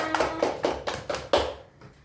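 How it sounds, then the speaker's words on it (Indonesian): Six spaced hand claps from a small class, loud and close, falling into a short burst near the end with a faint fading tail. "Ayo tepuk tangan untuk kalian semuanya."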